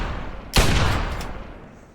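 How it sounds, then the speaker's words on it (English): A single hunting rifle shot in Fallout 3, a sharp loud crack followed by a long fading tail that trails off over more than a second. "The hunting rifle."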